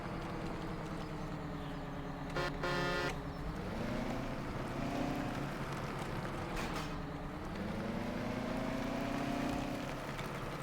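A vehicle engine in Farming Simulator 17 starts up and runs, a steady low rumble that holds throughout with rising and falling revs, loud and close, with no talk.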